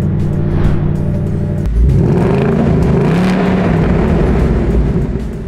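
A Ford Mustang GT engine idles with a low rumble, then its revs rise sharply and hold in a loud, swelling roar before easing slightly, heard close by without talk.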